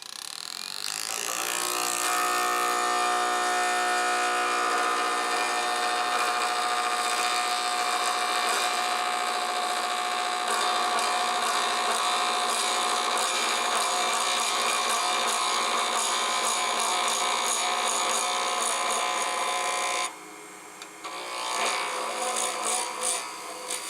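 A lathe spins a plastic pen blank as a skew shapes it round, a steady close whirring drone with a scraping edge that runs continuously for about twenty seconds before shifting to uneven scraping.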